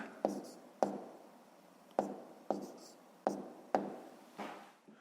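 Pen strokes on paper during a fifth-grade maths exercise, a series of about seven short scratchy taps at an uneven rhythm, close and quiet with no voices.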